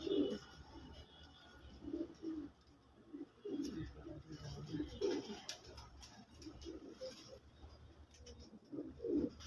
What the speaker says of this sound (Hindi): ये है पिपला वाले कबूतर